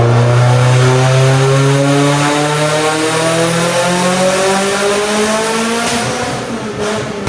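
A Mitsubishi Evo on a stock block with an AGT 64mm turbo screams under load, a loud, sustained engine note whose pitch climbs steadily through the rev range, close up with no talking.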